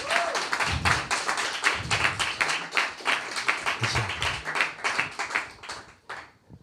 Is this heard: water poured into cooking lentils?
no